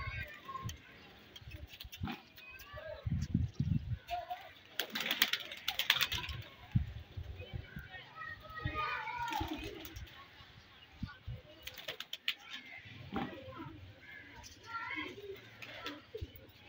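Prize racing pigeons, gifted from Muscat, coo softly on a rooftop in Phangat while people talk nearby, with scattered clicks and rustles mixed in.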